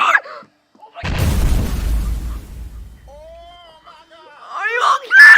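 A loud, rumbling blast erupts at a haunted doll toy, its low boom and noisy burst lasting a couple of seconds before fading, with excited voices shouting around it.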